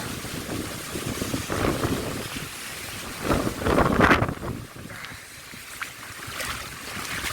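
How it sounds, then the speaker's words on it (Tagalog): Strong wind gusts across open ground beside an overflowing concrete irrigation canal, a continuous roar that buffets the microphone and swells in surges around the middle, with no talking. "Malakas. Grabe. Grabe hangin."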